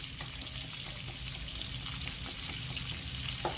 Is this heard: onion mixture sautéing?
yes